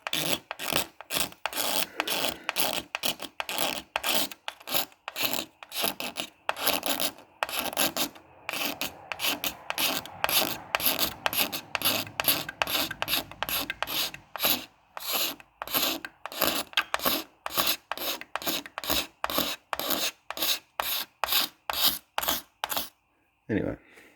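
A blade scrapes faded, peeling lacquer off a car headlight in dozens of quick rhythmic strokes, close and gritty, with a voice talking over it.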